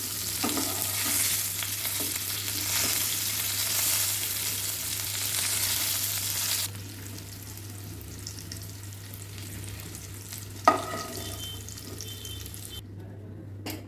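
Cauliflower pieces fry and get stirred in oil in a pan, a loud continuous sizzle that eases off midway, with a sharp clink of utensil near the end.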